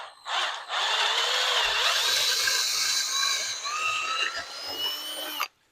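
A drill press whines steadily for several seconds, its pitch shifting slightly as the bit bites into wood, then cuts off abruptly.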